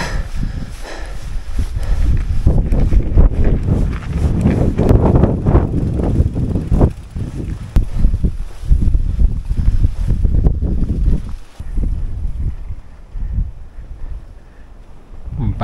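Strong gusting wind buffeting the microphone on an alpine pasture in the western Lake Como mountains, loud rumbling roars that swell and ease throughout, with no clear speech.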